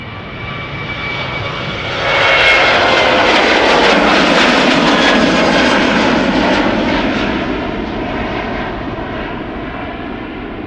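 A KLM Boeing 737-800 jet at Schiphol Airport roars loudly and close, swelling sharply after a couple of seconds and then holding a broad engine rumble that slowly eases off.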